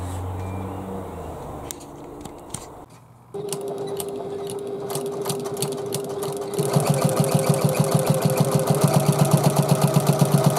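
An electric sewing machine stitches a quarter-inch seam around the edge of a domed handbag. It begins with start-stop whirs and clicks, then runs steadily and fast in a close, loud mechanical chatter.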